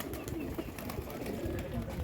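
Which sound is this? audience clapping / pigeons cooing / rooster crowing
pigeons cooing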